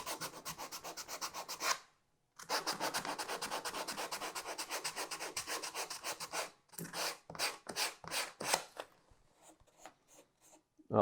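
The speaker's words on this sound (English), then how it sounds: "I'm just going to take my 150, I'm just going to rub it down" Sandpaper of 150 grit rubbed over EVA foam by hand, a close, steady scratchy rasping in quick back-and-forth strokes that pauses briefly, then breaks into separate slower strokes before fading.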